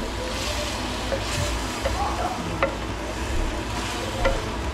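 Pork sizzles and gets stirred in a hot pan for sinigang, a soft continuous frying hiss with occasional scraping clinks of a utensil against the pan, fairly quiet throughout.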